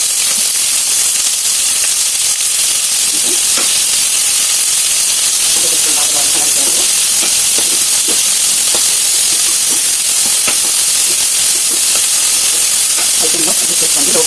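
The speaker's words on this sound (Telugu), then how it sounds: "ఉల్లిపాయలు బాగా వేగిపోయినాయి కదా" Onions fry in a pan with curry leaves and green chilies, giving off a loud, continuous hissing sizzle that fills the whole stretch, with faint scraping clicks of stirring scattered through it.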